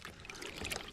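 Water splashes briefly over beef bones and a cow foot in a cooking pot, a short close pour.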